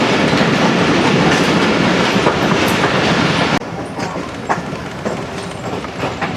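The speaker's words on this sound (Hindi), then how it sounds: "इसी के एहतमाम में ट्रेन ने स्पीड अपनी स्लो करी है।" Sialkot Express passenger train rolling on rails while slowing, a loud steady rumble with rhythmic clickety-clack of the wheels, easing noticeably partway through.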